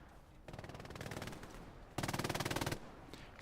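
MG42 machine gun firing in a Battle of the Bulge video game at Elsenborn Ridge, two sustained rapid-fire bursts, the second louder and closer, with brief quiet between.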